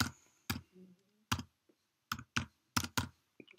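PHP code is typed on a computer keyboard in quiet bursts: a few sharp, close key clicks and taps, spaced unevenly, with brief pauses between them.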